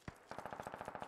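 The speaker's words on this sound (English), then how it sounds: "someone's shooting our Lodgy." Rapid, even automatic fire in Squad, a single shot followed by a steady string of about a dozen evenly spaced rounds, faint and distant.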